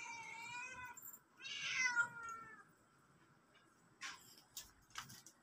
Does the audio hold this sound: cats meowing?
yes